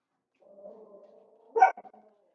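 A dog barks once, sharp and fairly close, after a short stretch of faint whining, then a few softer yips trail off in a quiet room.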